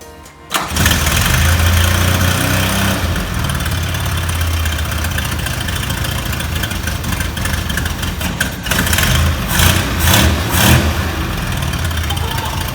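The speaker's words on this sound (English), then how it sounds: "my friends Elias and Memphis, we installed the engine and got it fired up." A project car's full 1300cc engine fires up after a brief quiet lead-in, then runs loud and close, settling into a rough idle with several throttle blips and revs toward the end.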